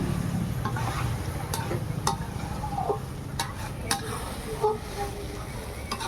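Spices fry and sizzle for a potato, pointed gourd, soya and paneer curry, with a spoon stirring and scraping the pot in irregular clinks over a steady frying hiss amid a busy event kitchen.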